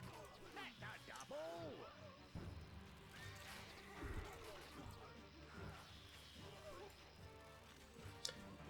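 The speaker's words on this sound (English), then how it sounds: "So we're killing the horses, which is good." Horses neigh in the PC strategy game Stronghold (2001), with several whinnies early on amid crashing and thwacking battle sounds and faint clip-clopping, while a voice talks over the action.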